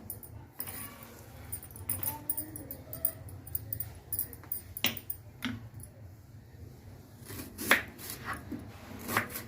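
Ponnaganti greens chopped into small pieces on a board in a home kitchen, heard as scattered soft knife taps and rubbing, fairly faint and close.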